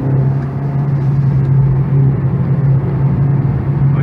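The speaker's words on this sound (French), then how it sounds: "Nous montons très haut dans les régimes et la voiture est incollable" A Renault Clio RS 4 (phase II) held at high revs on the Saintonge race circuit in France, giving a loud, steady engine drone that stays even throughout with no voices.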